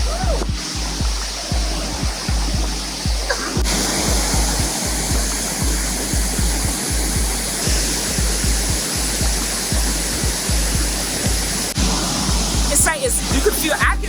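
Victoria Falls on the Zambezi River roars as a dense, steady rush of falling water, loud and continuous, with a low rhythmic thumping running beneath the spray.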